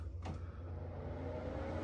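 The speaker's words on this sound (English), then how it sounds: "This is my bathroom exhaust fan." A steady low droning hum of a ReVent RVL80 bathroom ceiling exhaust fan running, with a brief click near the start, fairly quiet and constant.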